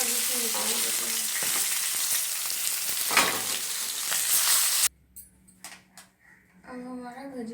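A fish head fries in hot oil for a Bengali cabbage fish-head dish, a loud, steady sizzle that cuts off abruptly midway, leaving quieter scattered crackles with voices talking underneath.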